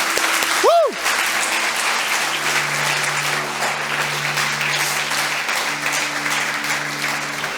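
A church congregation applauds steadily, a dense wash of clapping that holds at even loudness throughout, with a brief tonal swoop near the start.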